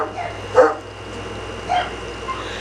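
A dog gives two short, moderately loud barks or yips about a second apart, in a quiet room with faint background hum.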